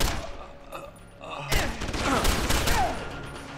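Gunfire from the Deus Ex: Human Revolution video game: a burst of shots and impacts rising loudly after a quieter opening, with dense, busy game combat noise continuing to the end.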